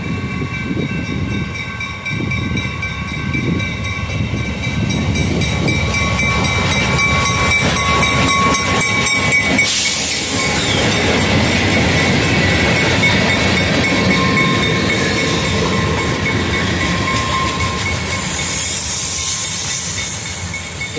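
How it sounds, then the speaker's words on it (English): A short CSX way freight led by two GP40-2 diesel locomotives rolls through Oakland Junction, with a steady heavy rumble, hissing air and rail clatter that stay loud and close for the whole stretch. "Yeah, that's what it is, a way freight, but anyway, this is the first CSX train I ever caught at this location."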